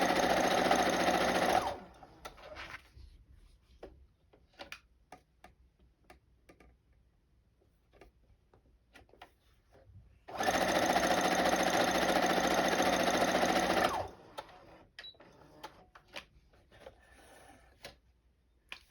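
Domestic sewing machine chain piecing quilt fabric with a quarter-inch seam, two steady bursts of fast, even stitching of a few seconds each, separated by quiet handling of fabric and soft ticks.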